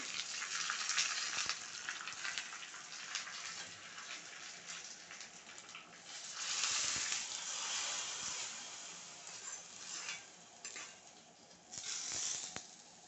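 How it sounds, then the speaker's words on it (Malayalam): Curry leaves crackle in hot oil for a spice tempering, sizzling loudly in bursts that swell and fade, with spattering pops throughout and no talking. "ഇതാ താളിപ്പ് റെഡി ആയിട്ടുണ്ട്"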